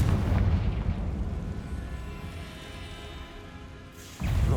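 A Confringo fire spell from the game Hogwarts Legacy bursts into a loud, rumbling explosion that fades out over several seconds before another blast hits at the end.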